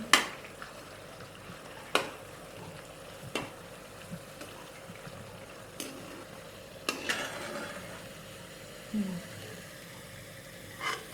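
Chiroti, a layered Diwali pastry, frying in hot oil: a low steady sizzle with sharp clinks and taps of a utensil against the pan every second or two, close by.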